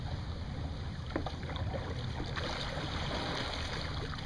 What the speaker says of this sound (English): just paddle backwards